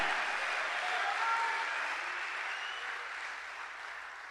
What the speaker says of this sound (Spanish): Démosle palmas al Señor, alabado sea su nombre.